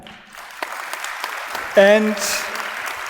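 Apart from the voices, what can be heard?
audience applause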